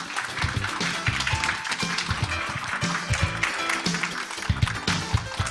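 Audience applause at a forum welcoming a speaker onstage, a dense steady wash of many hands clapping at moderate loudness, continuing throughout without clear talk.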